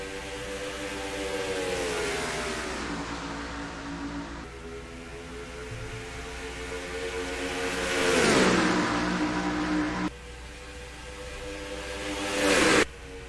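Stock cars race at Atlanta Motor Speedway in NASCAR Racing 2003, engines screaming and rising in pitch as they accelerate, with loud roaring passes swelling and dropping away.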